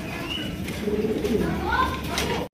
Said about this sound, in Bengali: হ্যাঁ ভাই, নতুন কবুতর আপনারা দেখতেই পাচ্ছেন।